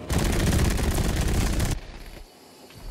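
An aircraft's light machine guns in the Pacific theatre of Battlefield 5 fire one loud, rapid continuous burst for nearly two seconds, then cut off abruptly into quiet engine rumble.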